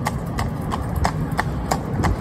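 Horse hooves clip-clopping on a town road in traffic, an even walking rhythm of sharp hoof strikes, close and steady over low background rumble.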